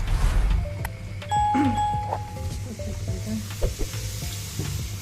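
Water poured into toasted flour in a hot pan for kuymak, giving a close, loud hiss and bubbling sizzle with scattered clinks and pops, the sizzle gradually settling.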